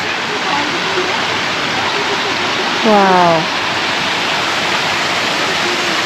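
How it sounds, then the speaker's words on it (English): Neoprene Falls on Mount Buffalo pours steadily with a constant broad rushing hiss of falling water, loud and close, while a person briefly exclaims over it. "So this is upper and lower Neoprene Falls."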